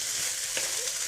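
Rice frying in a pan for a simple fried rice, a close, steady sizzling hiss with a soft stirring scrape in the middle of the brief burst.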